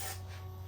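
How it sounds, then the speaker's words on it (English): Brake cleaner sprayed from an aerosol can into a Honda CB360T motorcycle, a short hissing burst that is strongest at the start and then tapers off over less than a second, quiet and close. "spray some brake cleaner in it"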